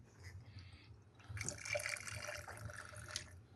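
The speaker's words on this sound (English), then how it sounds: "because I'm making it for me and Kareem, this is going to be 2 ounces of gin" Roku gin poured into a measuring jigger for a Tom Collins cocktail, a soft liquid trickle and splash lasting a couple of seconds, close but quiet, with no talking.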